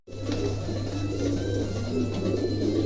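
Pigeons in a pigeon showroom coo softly and continuously over a steady low hum, with no talking.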